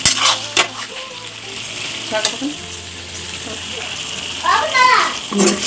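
Masala paste being stirred into chicken frying in a pan, with a steady sizzle and scraping strokes of a spatula, close, while someone talks over it and children's voices sound in the background.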